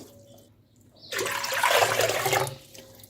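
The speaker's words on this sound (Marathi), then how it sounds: "मी दोन पातेले पाणी याच्यामध्ये घेते" Water pours into a pot in a sudden splashing rush lasting about a second and a half, then cuts off. No one speaks.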